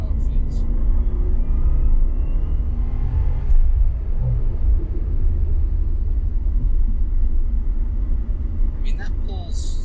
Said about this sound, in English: being able to gas it and see how it feels.